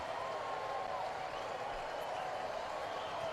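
A Thursday afternoon baseball crowd at a Padres–Braves game rises to its feet with the Padres down to their final strike, a steady, distant broadband roar of cheering and applause that holds throughout.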